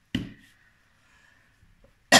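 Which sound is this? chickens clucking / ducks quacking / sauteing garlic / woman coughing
woman coughing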